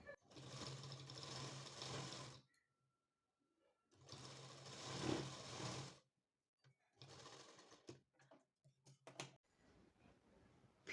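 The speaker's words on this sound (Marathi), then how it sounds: "आणि अशाच पद्धतीने मी दुसऱ्या साईडलाही स्टिच करून घेणार आहे" A sewing machine stitches a blouse in three separate bursts of rapid, whirring needle action, each lasting one to two seconds, with quiet pauses and faint clicks between runs.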